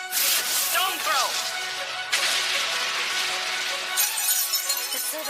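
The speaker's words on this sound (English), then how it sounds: "The silver crosses are shattering." Anime sound effect of silver crosses shattering in a fantasy battle: a loud burst of breaking glass with bright tinkling shards, a second crash about two seconds in and another near the end, no talk.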